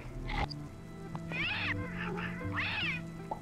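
A creature in the Braid video game lets out a series of angry, cat-like yowls and meows, several short bursts over a steady game music backdrop at modest volume.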